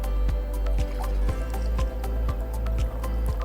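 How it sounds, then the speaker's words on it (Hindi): Branded packaged water poured into a glass, heard as a run of repeated drips and splashes at a steady rhythm, close by and fairly loud with no talking. "एक में पहले मैं ब्रांडेड बाहर का पानी डालूंगी"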